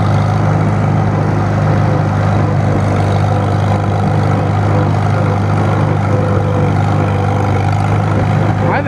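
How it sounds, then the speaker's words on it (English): A 1954 Farmall Super M tractor engine runs steadily, close and loud, with a deep continuous low rumble and a faint rough ticking texture throughout, no voices. "Here it is, the old Super M, 54 Super M, finally in action."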